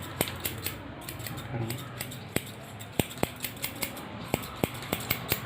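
Scissors snip close up during a haircut, with sharp metallic clicks in uneven bursts that quicken into a quicker run of cuts toward the end, quiet background.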